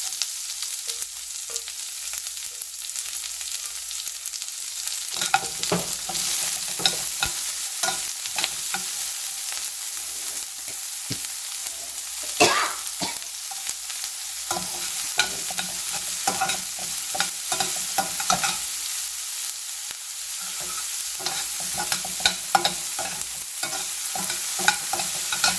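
Onions, green chilies and curry leaves sautéing with browned urad dal in a pan for a banana stem kootu, a steady sizzle broken by repeated scraping stirs of a spoon, close and alone without speech.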